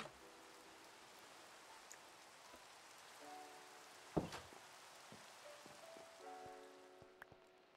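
Minecraft rain gives a faint, steady hiss and patter in the game, with a few soft drop-like ticks and quiet tonal notes drifting in and out.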